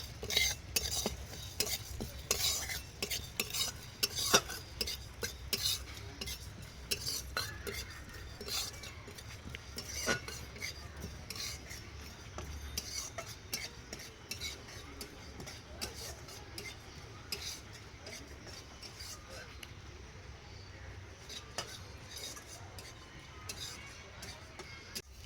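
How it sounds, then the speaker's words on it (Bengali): Coriander, fennel and other whole spices dry-roasting in a pan, heard as soft scraping stir strokes and light ticking clatter, fairly quiet and continuous throughout. "ধনে মৌরি, এই 3টে মশলা একসাথে ভেজে গুঁড়ো করে নেব।"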